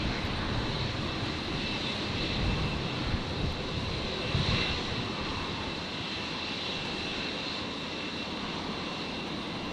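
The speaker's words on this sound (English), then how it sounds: "The Fokker 100 of Alliance Airlines operating a Virgin flight today." An Alliance Airlines Fokker 100 jet at Brisbane airport gives a steady, distant engine roar that swells slightly midway, with a broad rushing hiss and no talking.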